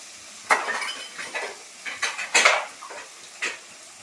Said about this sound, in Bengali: ক্যাপসিকামটা দিয়ে আমি একটু ভালো করে নেড়ে নিই